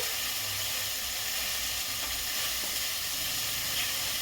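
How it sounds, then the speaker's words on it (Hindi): Vegetables frying in a pan for khichdi over lowered gas give off a steady, faint hissing sizzle that continues evenly throughout with no voices. "सब्जी अच्छी तरह से भून चुका है। गैस को मैं स्लो कर रही हूँ।"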